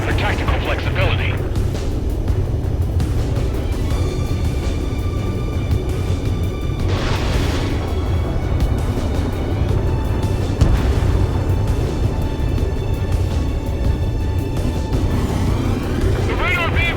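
Explosions from enemy attacks in Ace Combat 7, with an F-16 on a ground attack against anti-air radar vehicles, come as heavy booms under constant jet engine roar, while radio voices talk over the action.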